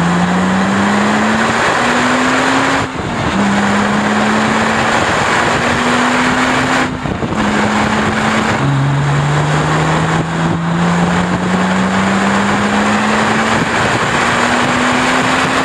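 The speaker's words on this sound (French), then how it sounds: "je vais vous faire entendre la mélodie du Flat 6" Porsche Cayman S flat-six engine revving steadily, its pitch rising in repeated sweeps broken by brief gear-change dips, loud and close with no talk over it.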